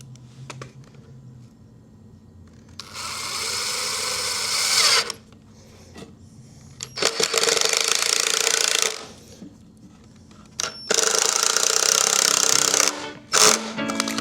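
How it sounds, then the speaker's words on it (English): A power drill driving screws into wooden boards while a garden potting bench is built, three long whirring bursts of several seconds each plus a few short blips, loud and close with quiet pauses between. "we'll screw these on first, like that, all the way on all 4 corners, and then we'll come in and we'll screw those boards like that together"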